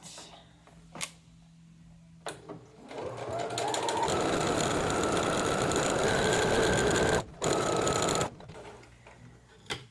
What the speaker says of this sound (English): these ones we're just going to baste this together so it's ready when we need it